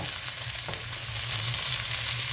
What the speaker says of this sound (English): I know I'm using a metal spatula in a non-stick pan, but I'm trying to flip them